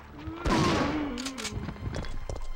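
Shotgun blasts in the Resident Evil 3 video game, one strong broadband burst followed by several quieter shots, with a voice talking over the firing.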